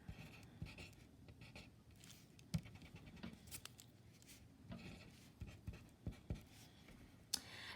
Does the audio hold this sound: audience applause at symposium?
no